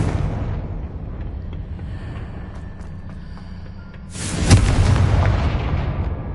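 A Confringo spell blast in Hogwarts Legacy goes off partway through, a sudden loud booming burst with crackling debris that rolls on and slowly fades over low ambient rumble.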